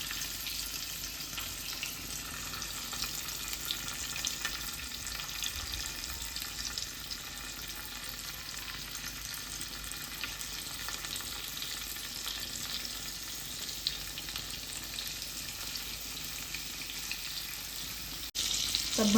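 Stuffed mackerel in green masala, Agri style, frying in hot oil over a low gas flame: a steady, even sizzle and crackle that runs without a break, close and moderately quiet.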